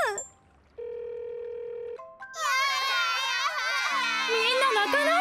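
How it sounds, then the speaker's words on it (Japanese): Tones sound as a telephone number is dialed in a Japanese children's cartoon about a little bus. A single held tone is followed by rising beeps, then a voice cries over the line. "あ、こんな風に待ってるだけじゃなくて、花に電話すればいいんだ"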